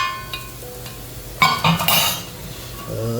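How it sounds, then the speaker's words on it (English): A spoon scrapes and clinks against a pan while stirring meat masala with pepper and garam masala, a few light metallic knocks followed by a busier burst of scraping, close and fairly loud. "Let's give a gentle stir until that raw smell is gone"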